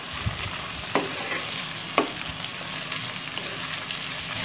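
Tomatoes stirred into onions and parboiled potatoes frying in oil for a green capsicum sabji, a steady sizzle with sharp utensil clicks against the pan near one and two seconds, close and moderately loud.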